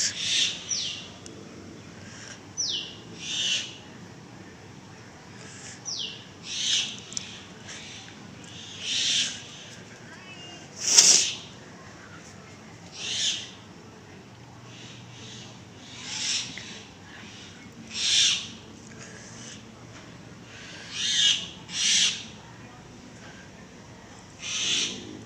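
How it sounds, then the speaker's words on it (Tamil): Myna birds call from the trees in repeated bright, sharp bursts spaced every second or two, moving between nearby branches, with one louder close call midway over a quiet background. "பாருங்க மைனா கத்திக்கிட்டு இருக்கு."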